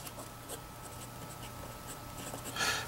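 A Platinum 3776 Yamanaka fountain pen with a medium nib, inked with Sailor ink, writes on paper. The scratching of the nib is soft and continuous, with small strokes and a slightly louder scratch near the end.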